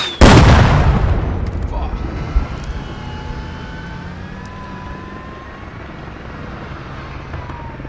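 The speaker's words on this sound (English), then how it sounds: "plane's moving off." In the military shooter game Squad, a loud blast opens, then a plane drones steadily as it moves off and fades, with a faint thud partway through.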